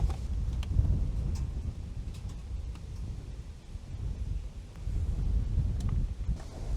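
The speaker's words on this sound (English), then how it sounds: "It's so windy, I don't know if you guys can hear" Gusty outdoor wind buffets the microphone in a steady low rumble around a garden with animal pens, with faint ticks and rustles scattered through.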